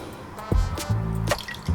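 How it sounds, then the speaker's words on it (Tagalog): Water poured into a pan over milkfish (bangus) gives a few short, close splashes and drips, each quick gurgling burst separated by brief pauses. "lagyan natin ng konting tubig para lang pumailalim ng husto yung bangus"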